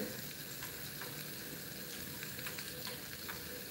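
Steak cooking on a grill, a dense, steady sizzle with faint crackles throughout, close but soft, no speech.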